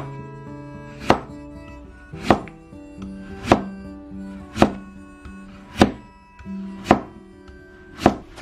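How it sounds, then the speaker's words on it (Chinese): A kitchen knife slices a trimmed radish into pieces on a cutting board, giving seven evenly spaced, sharp thunks about a second apart, close and clear with no talking. "然后把处理好的萝卜我们给它切成片"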